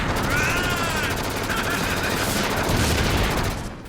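Rapid bursts of gunfire in the video game Disaster: Day of Crisis, a dense continuous rattle with game sound effects layered over it, loud throughout and easing off near the end.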